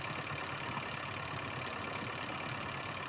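A tractor engine runs at a steady idle-like drone, low and continuous with no change in pace, heard close on a farm with no voices.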